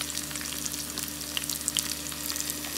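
Onion sizzling in a frying pan as the base for adobong sitaw with tomatoes, a steady close crackle and hiss with no one talking.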